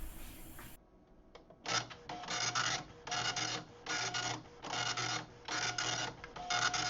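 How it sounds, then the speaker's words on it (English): A retro printer runs a queued print job: after a brief click, regular bursts of loud mechanical rasping repeat about once a second, each a pass of the print head, separated by short quieter gaps. "We should see it begin to print."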